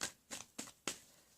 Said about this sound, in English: I'm going to do 3 more shuffles